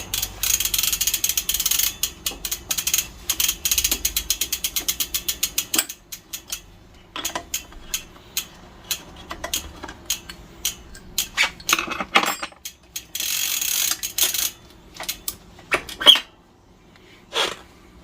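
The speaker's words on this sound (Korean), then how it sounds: "네, 이렇게 크랭크 탈거되었고 이제 BB만 탈거하면 될 것 같습니다." A crank being removed from a Merida TFS 800 bicycle during an electric conversion: rapid metallic ratcheting clicks in fast bursts, pauses, then more tool clacks and clinks, close and loud with no talk.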